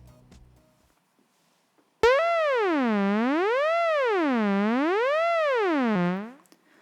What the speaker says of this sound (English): Number 1 is the sine wave.